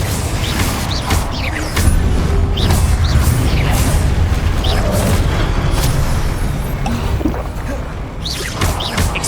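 Spell blasts from Hogwarts Legacy combat, a sustained dense roar of booming impacts and crackling debris with repeated sharp bursts, loud and continuous throughout.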